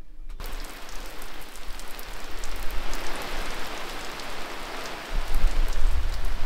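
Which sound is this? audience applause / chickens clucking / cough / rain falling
rain falling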